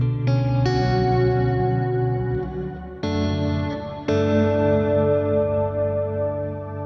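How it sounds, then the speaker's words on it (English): Clean guitar chords and notes through a pad-style shimmer reverb on a Quad Cortex, each strike blooming into a long, bright, sustained wash with an octave-up sheen, loud and unaccompanied. "The next one is pad. Now that's like your shimmer type of reverb."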